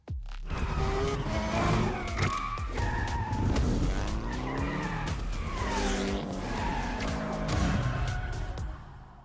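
Tires squeal and skid repeatedly as engines rev through drift racing on a mountain pass in a video game, loud and continuous with shifting screeches and engine roar, no voices.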